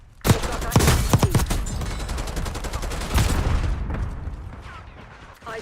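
Dense video game gunfire, rapid automatic bursts and booming shots that crowd together loudly for about three seconds, then thin out toward a quieter tail, with faint voices mixed in.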